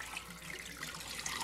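Water drains off soaked raw chicken in a kitchen, a steady close splashing pour running without pause and without talking.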